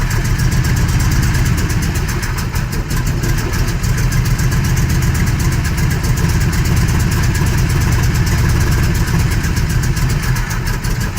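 Oldsmobile Cutlass G-body with a 455 V8 idling steadily, a continuous low rumble with even loudness throughout and no voices over it.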